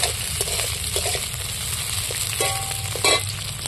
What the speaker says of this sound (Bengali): পেঁয়াজগুলো আমি তেলের মধ্যে একটু নাড়াচাড়া করে ভেজে নেব।